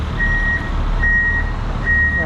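A truck's reversing alarm sounds at a haul yard where trucks are being jump-started and moved: three evenly spaced, piercing high beeps over a loud low engine rumble.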